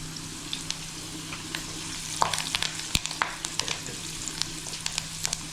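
Garlic and curry leaves sizzle steadily in hot oil for about five minutes, with occasional pops and crackles from the pan and a stir now and then.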